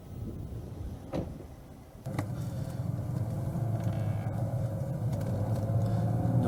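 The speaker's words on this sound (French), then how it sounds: "on reprend notre accélérateur et on garde du patinage avec l'accélérateur, on remet l'auto en ligne" A drift car on a driving-school course accelerates, brakes and slides, with a couple of sharp knocks early on, then a steady, close engine rumble that builds in loudness.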